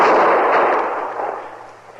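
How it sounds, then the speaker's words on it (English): A gunshot aimed at a lawman in a 1955 Western radio drama: one loud, close blast with a long rumbling decay, heard alone with no voices. "Somebody was shooting at me, Chester."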